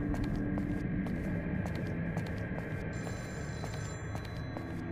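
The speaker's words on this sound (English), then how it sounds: "I hear a phone ringing." A telephone rings steadily inside a dark horror video game apartment, a continuous bright ringing tone with repeated pulses over a low ambient hum, fairly loud and unaccompanied by talk.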